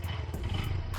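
A 2025 Honda Grom SP motorcycle engine runs just after start-up, a close, steady low rumble that holds at an even level for about a second with no talk over it.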